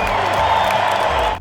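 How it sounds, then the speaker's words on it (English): A large baseball crowd at a Blue Jays game roars with loud, dense, sustained cheering and some whoops, with no breaks until it cuts off at the end. "And listen to this crowd."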